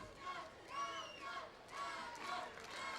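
Boxing crowd at an amateur tournament final cheers and shouts for a fighter, swelling in several waves of roaring voices at moderate distance across a few seconds.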